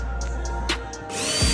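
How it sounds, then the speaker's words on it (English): A power drill whirs briefly, pre-drilling pilot holes into 2x4 lumber, with short tool bursts and a rising motor whine at close range. "make sure you pre-drill these holes."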